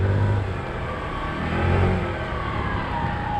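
A 2021 SYM Mio fuel-injected scooter idles steadily close by, a low engine hum with a faint rising whine and no talk over it.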